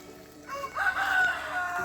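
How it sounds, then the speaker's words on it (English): A small-farm rooster crows once, fairly close and clear, with a rising then held call over soft background noise. "He's a crazy little rooster."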